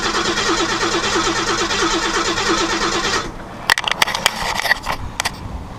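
A car engine cranks steadily with a rapid, rhythmic starter churn but never catches, running for about three seconds before cutting off, followed by a few sharp clicks and knocks.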